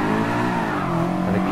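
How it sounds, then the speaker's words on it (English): BMW E92 engine revving hard on a clutch kick into third gear in a drift racing video game, a loud, sustained harmonic engine roar held close and steady throughout. "Go to third gear with a clutch kick."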